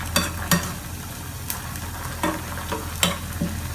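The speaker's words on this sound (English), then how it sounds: "While the onions are getting sauteed" Onions sauté in a pan with a steady close sizzle, broken by several sharp scraping clinks as a utensil stirs them, with no talk.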